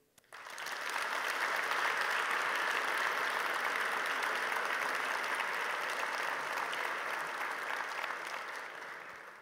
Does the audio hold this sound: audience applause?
yes